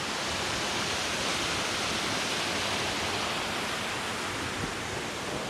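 Steady roar of a waterfall beside the Kings Peak trail on Vancouver Island, a dense, even rush of falling water filling the whole stretch without pause, close and constant, with no voices.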